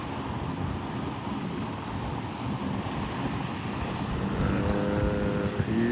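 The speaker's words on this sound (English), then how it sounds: "This is a center console. He has a double engine Boston Whaler." A twin-engine Boston Whaler center console boat runs on a river, a steady low outboard drone at moderate distance mixed with wind and water wash.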